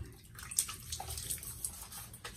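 Hot water runs from a bathroom sink tap before a shave, a soft steady splashing stream with a few brighter drips and splashes, close and fairly quiet, with no voices.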